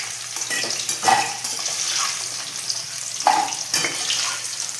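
Potatoes frying in a pan, giving a steady sizzling hiss with intermittent scrapes and clinks of a utensil stirring against the pan.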